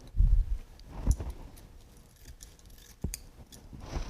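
Scissors or shears snipping through the stems of a garden-style bridal bouquet, a few crisp close cuts with rustling of stems between them, no voices.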